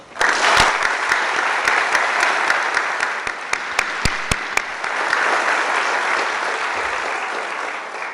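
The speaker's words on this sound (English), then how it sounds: "Let's give them applause." An audience applauds at a 2016 alternative high school graduation ceremony, a loud, sustained wash of clapping from a large crowd with a few sharper individual claps standing out.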